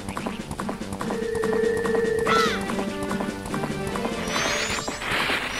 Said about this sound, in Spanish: Me encanta este caballo.